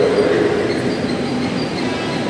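A commuter train rumbles at Bekasi station in a loud, steady roar of rolling wheels and carriages nearby. No break or voice stands out.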